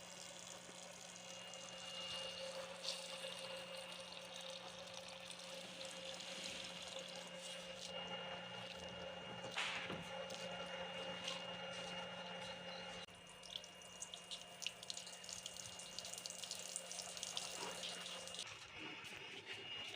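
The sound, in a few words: washing cut mungre under running tap water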